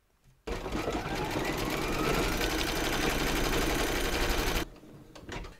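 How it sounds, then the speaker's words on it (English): Silver satin stitching around a hand crank wheel on an embroidery sewing machine: a dense, rapid mechanical chatter starting suddenly, holding steady for about four seconds, then cutting off. "Load your matching bobbin and thread colour for the satin stitching around the hand crank wheel into your machine, and then stitch round number 15"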